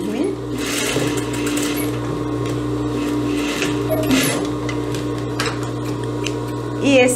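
A sewing machine backstitching elastic on a ciganinha-style blouse, a steady close mechanical hum with rapid ticking stitches running throughout.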